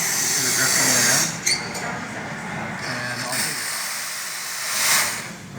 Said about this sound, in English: You'll notice when we turn these steam wands on that it's dripping, and the water spout as well.